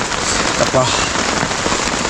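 Heavy rain pours steadily at Gorakhgad fort, a dense, loud and even hiss throughout, with a brief voice heard near the start.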